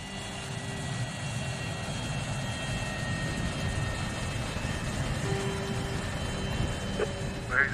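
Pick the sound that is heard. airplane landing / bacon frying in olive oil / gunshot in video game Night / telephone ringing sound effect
airplane landing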